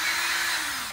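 A power drill runs steadily at high speed while polishing clear plastic with cleaner, giving a continuous loud whirring hiss that winds down at the end.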